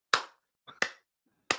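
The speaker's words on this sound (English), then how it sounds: "But thank you for the slow clap" A slow clap: three single hand claps spaced well apart, sharp and close, with quiet gaps between them.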